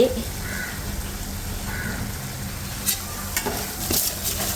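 Turmeric powder sautés in ghee for a homemade nellikka lehyam, giving a steady soft sizzle with faint stirring scrapes near the end, close and even throughout.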